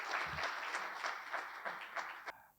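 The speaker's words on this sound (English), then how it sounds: "So, with huge round of applause, let us welcome our speaker" An audience at a professional chartered accountants' event claps to welcome a speaker, a moderate burst of applause that fades and stops near the end, heard from a slight distance.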